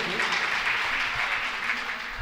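Loud, steady applause from a mushaira audience at a Kundarki Urdu poetry gathering, a continuous dense clatter of many hands lasting the whole stretch with no talk over it.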